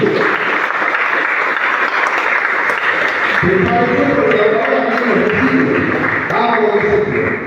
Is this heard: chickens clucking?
no